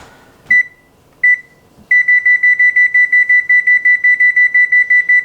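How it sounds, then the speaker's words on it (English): A kitchen timer beeps for a Dutch butter cake with almonds baking in the oven: two single beeps, then a steady run of loud, evenly spaced electronic beeps. "So let's set the timer."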